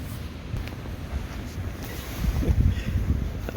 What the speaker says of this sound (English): So it's quite a drab, overcast and windy day in Albany today.